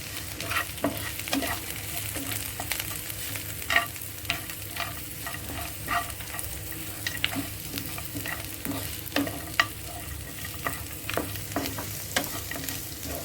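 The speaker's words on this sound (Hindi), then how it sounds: "तो अब इसमें बादाम और काजू डाल देंगे।" Almonds and cashews frying and being stirred in a pan while cooking mutton changezi, a steady close sizzle with frequent light scraping and clinking from stirring throughout.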